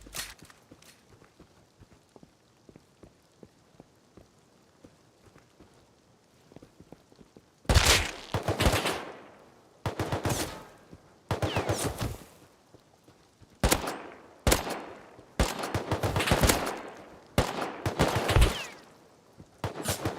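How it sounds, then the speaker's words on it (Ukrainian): Quiet low rumble at first, then repeated bursts of rapid automatic gunfire in clusters, loud and close, from SMGs in the game Rust. "Можу знати, де він стріляє по мені."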